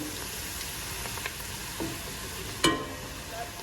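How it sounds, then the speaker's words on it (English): Onions cooking in a pan give off a continuous sizzle as flour is added for a roux. A brief stir or scrape sound is followed by a sharp sizzling burst near the end. "we're gonna add in some flour to make a roux"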